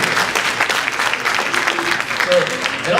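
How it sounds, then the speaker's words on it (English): High school students giving themselves a round of applause at a school event, a lively crowd of clapping hands with scattered voices and cheers mixed in. "give yourself a round of applause."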